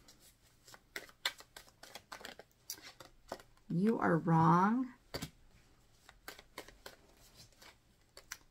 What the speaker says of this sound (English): This deck's like not wanting to shuffle very easily.